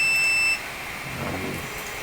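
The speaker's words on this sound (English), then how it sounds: "it'll beep 4 times." An Afinia H Series 3D printer gives a short, bright electronic beep at the start of printing. The tone is loud but brief and cuts off sharply, and only quiet room sound follows.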